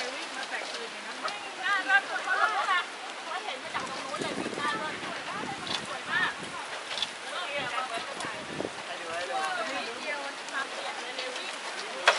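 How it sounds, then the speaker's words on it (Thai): Steady heavy rain from a summer storm pours down with gusty wind on Doi Sa Ngo, Thailand, a dense continuous wash of noise close by, with a voice talking faintly underneath. "ตอนนี้ ฝนมาแรงครับ น่าจะเป็นพายุฤดูร้อนน่ะ"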